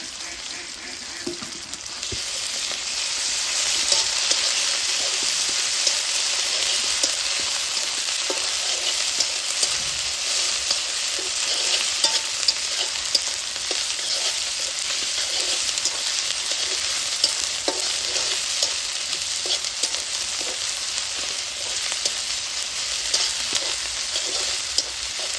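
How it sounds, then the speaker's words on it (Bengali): Onions with ginger-garlic paste fry in a pan while being stirred, producing a loud, dense, continuous sizzle with scattered scraping of the spoon, heard close and without talk. "পেঁয়াজ ভাজা হয়ে গেছে"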